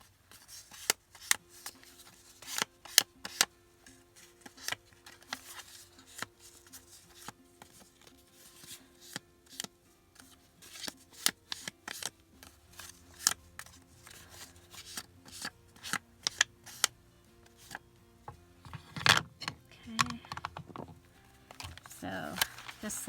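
Paper being distressed for a junk journal: repeated close crinkling, scraping and rubbing strokes in irregular bursts, growing busier and louder toward the end, with no talking.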